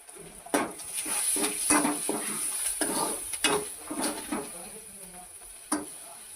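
Green chillies and salt frying in a pan for mutton paya, with a low steady sizzle broken by repeated clinks and scrapes of a utensil against the pan, close by.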